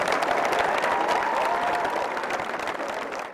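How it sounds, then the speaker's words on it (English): Studio audience applause rings out at a live evening news show, a full, even burst of clapping that gradually tapers off. "Please join me in giving them yet one more round of applause for their service."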